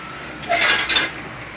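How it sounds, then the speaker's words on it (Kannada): A pan shifted on a stovetop burner while oil goes in for chapati egg curry: a couple of soft metallic clinks and scrapes, close and fairly quiet, with no one talking. "ಗೈಸ್ ಇವಾಗ ನೋಡಿ ಒಂದು ಪ್ಯಾನಿಗೆ ಎಣ್ಣೆ ಹಾಕ್ಕೊಳ್ಳೋಣ"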